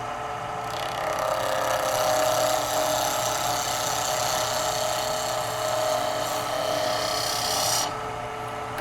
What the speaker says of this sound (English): With the angle on my gouge, I can do that in one cut.